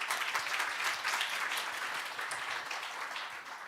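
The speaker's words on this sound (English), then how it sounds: "please welcome them with a big round of applause" Conference audience applause at an Asia-Pacific ADR conference session, a steady, dense clapping from a sizeable crowd that holds throughout and eases slightly toward the end, heard from within the hall.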